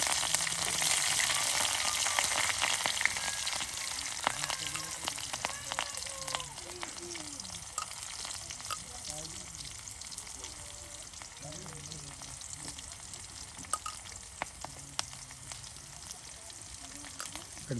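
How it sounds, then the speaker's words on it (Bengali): Onions and chilies frying in oil over an outdoor jungle cooking fire, a steady hissing sizzle with occasional stirring clicks, moderately faint, with brief talk over it. "এখন আপনার পেঁয়াজ দেওয়া পেঁয়াজ মরিচ ভেজে নেওয়া হবে"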